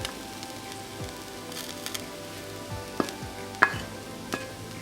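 Vegetables for a chicken curry are stirred in a pan on the heat. A steady soft sizzle runs throughout, and a few sharp scrapes and knocks of the spoon against the pan break through it.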